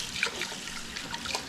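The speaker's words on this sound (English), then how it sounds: "we're just going to rinse and drain the rice a couple of times here" Water running over rice being rinsed and drained in a kitchen, a steady close hiss of flowing water with light splashes and trickles, no talk.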